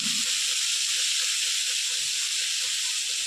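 Onions with salt fry in a pan, making a loud, constant sizzling hiss that stays close and even from start to finish.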